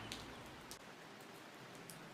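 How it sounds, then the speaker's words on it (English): Steady rain falls outside a window, a continuous close hiss of drops on surfaces with a few brighter spatters, and no voices. "I'm looking out my window and it's still raining outside"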